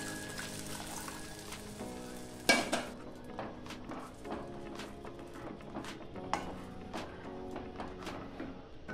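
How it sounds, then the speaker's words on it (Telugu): A spoon stirs fried vermicelli and milk in a pan for semiya payasam, making soft clinks and metallic scrapes against the pan at an uneven pace, one sharp knock standing out, over quiet background. "సేమియాను ఒక 5 నిమిషాలు లో ఫ్లేమ్ మీద వేపుకున్నాక ఇందులోకి మనము పాలు వేసుకొని కలుపుకుందాం"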